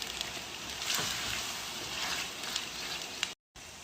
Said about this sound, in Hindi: मसालों के साथ इसकी 5 मिनट भुनाई करेंगे।